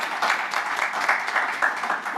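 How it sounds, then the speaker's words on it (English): Audience clapping at a business talk event, a steady wash of many hands throughout at moderate level with no voices over it. "Thank you for clapping."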